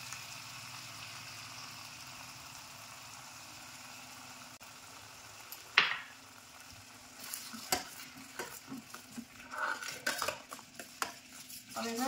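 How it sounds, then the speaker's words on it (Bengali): Coconut milk poured into a pan of spiced prawns, a sharp splash-hiss followed by soft sizzling and scattered metal spoon scrapes and clinks against the pan, fairly quiet overall. "এইরকম অবস্থায় আমি এখানে নারকেলের দুধটা দিয়ে দেবো"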